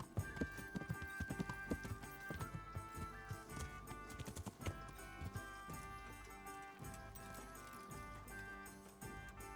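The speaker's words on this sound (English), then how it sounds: "Look at my horse go." Rapid rhythmic hoofbeats of a galloping horse in Kingdom Come: Deliverance, blended with steady game music, with no talking.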